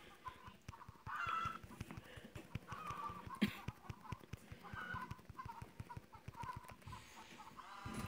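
Chickens cluck and honk continuously in the mobile farming video game Egg Inc, a busy flock of overlapping bird calls over rhythmic background game music, with no speech.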